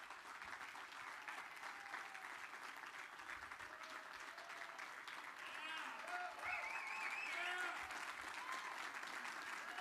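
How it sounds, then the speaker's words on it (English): A press audience at a political speech claps steadily, with the applause swelling louder partway through while scattered voices and cheers rise within it. "some of the press was actually clapping"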